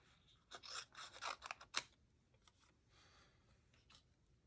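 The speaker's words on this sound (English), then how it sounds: "I am just going to take a pair of scissors, And I am just going to snip this one off" Scissors snipping through paper for a card-making craft: a quick run of sharp, close cuts and rustles, then a few softer paper sounds as it settles, quiet and alone.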